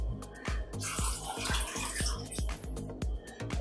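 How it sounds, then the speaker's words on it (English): Water pouring into a pot of red beans, a loud splashing stream with a rhythmic thumping pulse, close by and steady throughout. "We'll cover it with at least 6 cups of water"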